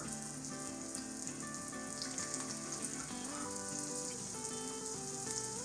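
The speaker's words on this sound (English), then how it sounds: "Add the pork chop in a single layer in a large frying pan." A pork chop sizzles in coconut oil over medium-high heat in a large frying pan, a steady, crackling fry running continuously beneath soft background music.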